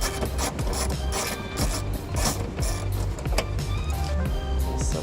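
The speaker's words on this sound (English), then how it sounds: "Now we'll take our 10mm socket, take the lower anchor out." Ratcheting 10mm socket wrench loosening the lower cargo strap anchor bolt inside a 2014 Toyota Prius, quick repeated ratchet clicks up close, steady and busy throughout.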